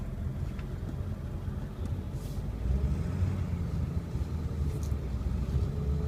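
A 2002 Ford F250 Lariat diesel 4x4 pickup drives along, its steady low engine rumble and road noise continuous throughout and growing slightly heavier midway, with no talking.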